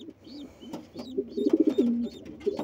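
Pigeons in a pigeon loft coo in soft, low, rolling phrases, several close murmuring calls clustering in the middle with a few quieter coos around them.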